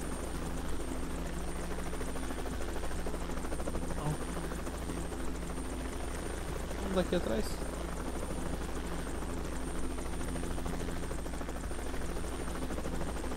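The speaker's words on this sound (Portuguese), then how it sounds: "não fica mexendo no helicóptero não" A steady helicopter rotor drone in the video game ARMA 3 runs throughout with constant engine hum while hovering, people talk over it and a brief thump lands midway.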